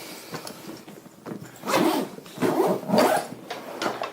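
A zipper pulls open on a CLC Custom Leathercraft 1132 leather tool bag in several scraping strokes, close by, with light rustling of the bag between pulls.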